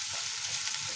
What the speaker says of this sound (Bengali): আলু যতক্ষণে ভাজা হবে ততক্ষণে এখানে পেঁয়াজটাও ফ্রাই হয়ে যাবে।